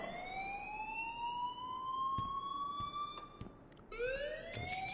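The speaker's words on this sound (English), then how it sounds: "please turn off that alarm since that's your job" An alarm in the video game Life is Strange wails with rising, sustained siren tones, restarting once near the end, while faint clicks and bumps sound beneath it; no one speaks.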